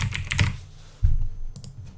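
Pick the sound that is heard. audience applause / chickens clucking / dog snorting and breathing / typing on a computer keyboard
typing on a computer keyboard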